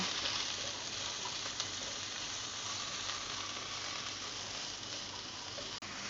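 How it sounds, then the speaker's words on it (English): Mushrooms, carrots and chopped ginger sizzle in hot oil in a stir-fry pan, a continuous dense crackling hiss with a couple of faint stirring taps, heard close and without voices. "So once the oil goes in, we add our mushrooms, our carrots, and our chopped ginger. Then we give it a stir."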